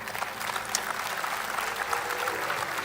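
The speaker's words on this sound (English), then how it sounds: "yeah, you can clap for that." A church congregation applauds steadily during a sermon, with a continuous, even patter of clapping that stays moderately loud from start to finish and no voices rising above it.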